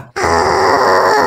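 A single sustained, rough vocal grunt held steadily by one person as the basis for a scream, loud and close, starting abruptly after a brief breath.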